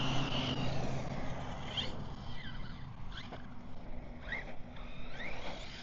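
A Team Corally Kagama 6S RC car drives outdoors, its electric motor giving several quick rising and falling whines as it speeds up and slows, over steady wind and rolling noise.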